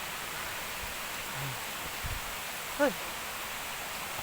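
Twin Falls waterfall in Laguna sends a steady, fairly faint rushing hiss that fills the whole scene without letup. A brief voice exclaims once partway through.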